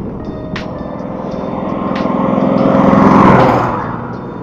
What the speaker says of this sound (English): That vehicle was really loud.